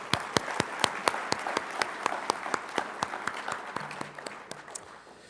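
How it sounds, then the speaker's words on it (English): Steady applause from an auditorium audience at a youth entrepreneurship event, many hands clapping with sharp claps ringing out evenly throughout, moderately loud and without voices. "if we can give her a big round of applause"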